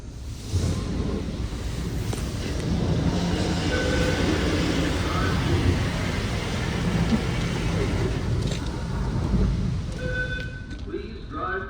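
A Washworld Razor Edge touchless automatic car wash in Victor, NY runs with a loud, steady rush of high-pressure water spray and machinery noise, with faint tones and clicks near the end.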